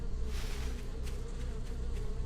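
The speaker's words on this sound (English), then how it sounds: "Why are there bees? And why are they chasing me?" Bees buzz in a continuous, dense swarm drone while chasing the player in the video game 7 Days To Die, a steady close hum with no speech.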